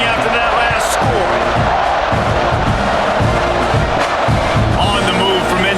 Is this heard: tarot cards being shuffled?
no